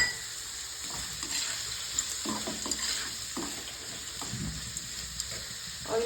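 Gundruk and soybeans fry in a pan with tomato, a steady close sizzle broken by a few scraping stirs and light clinks.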